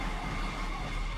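Emergency sirens ring out across Shibuya crossing in the video game 428: Shibuya Scramble, a brief, steady, dense wash of wailing tones over city noise, with no talk.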